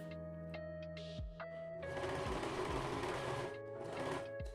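Sewing machine stitching the side seam of a loose-fitting blouse, a close, steady mechanical whirr with brief pauses and restarts between bursts of stitching.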